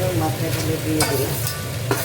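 Fish heads frying in a hot pan for a Bengali chechra, a loud, steady sizzle with crackling bursts, close up and with no talk.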